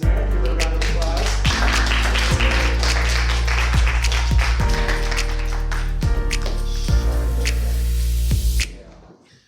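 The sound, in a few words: applause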